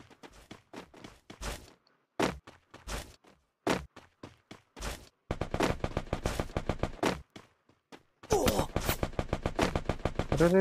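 Rapid bursts of Vector submachine gun fire in Garena Free Fire, a 50-round weapon, crackling in dense repeated volleys that grow heavier and nearly continuous toward the end.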